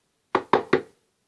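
Three sharp, evenly spaced knocks on a wall sound close and clear, then silence.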